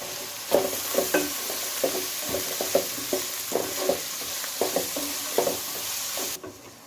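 Ginger, garlic and green chilli sauté in a hot pan with steady frying sizzle and repeated scrapes and stirs of a spoon in an even rhythm, close and clear with no talking.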